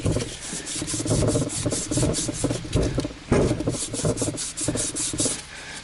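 A Scotch-Brite pad scrubs rust from a vehicle wheel hub surface on a workbench, a fast, rhythmic abrasive rubbing that continues steadily and close up, with no talking.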